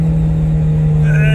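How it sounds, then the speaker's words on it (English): A modified car with a forged bottom end and black top head runs loud and close, its engine droning steadily under a voice, with a higher whine rising near the end. "Big backfires, guys."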